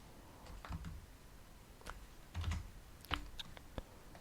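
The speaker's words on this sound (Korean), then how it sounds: "컨트롤 Z 눌러서 방금 점을 삭제했고" Computer keyboard keys, Esc and a Ctrl+Z shortcut, are tapped close by in a few separate quick clusters of clicks with short gaps between them, and nobody speaks.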